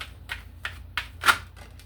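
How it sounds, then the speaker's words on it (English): A deck of cards is riffled and shuffled in a few quick, close bursts of crisp flutter and snapping, with no voices. "Do one more shuffle."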